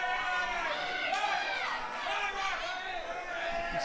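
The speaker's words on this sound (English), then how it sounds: "And the crowd solidly behind the Hooligans, chanting along." A wrestling crowd chants along in rhythmic, voiced waves for the Hooligans, a steady roar of many voices filling an event hall at moderate distance.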